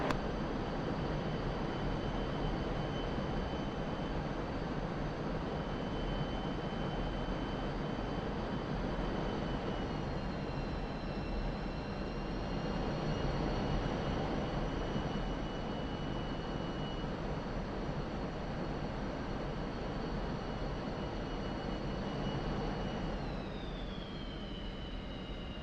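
MiG-29A jet in the DCS flight simulator, a steady, loud engine roar with high tonal whines that shift in pitch, continuous and without talking.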